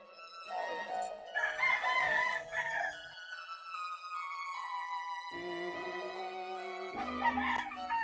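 Roosters crow in long, drawn-out calls over scattered clucking from chickens on a rooftop game farm, the birds close and fairly loud and continuous, with no talking.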